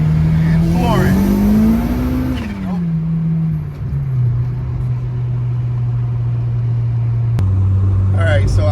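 A turbocharged G23 Infiniti sleeper car revs up hard and loud at full throttle, tone climbing then dropping as it shifts, settling into a steady drone, with a voice briefly heard early on.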